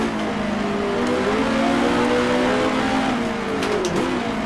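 A race car engine drops from high revs as it downshifts into second gear on a circuit, approaching a hairpin. The loud, continuous, close engine note sags in pitch and then blips briefly near the end. No one speaks.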